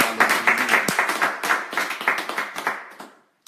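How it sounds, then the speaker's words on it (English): Audience clapping at a church gathering, fairly close and lively, with a dense patter of hands that fades out toward the end. "Let's clap and shout out."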